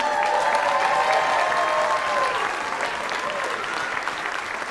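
Audience applause for fifth graders at an elementary school moving-up ceremony, a dense sustained clapping from a crowd in a hall, loud at first and easing slightly toward the end.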